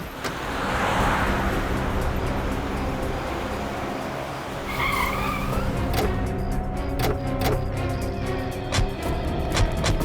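A car on a road, likely in a forest area, slows and stops, then moves backward, with a steady engine rumble, brief tire noise and passing traffic.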